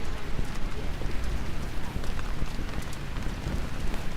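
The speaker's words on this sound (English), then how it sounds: "As the rain coming down pretty steadily here." Steady rain falling on a baseball field during a varsity game, a dense continuous hiss with scattered drop patter throughout.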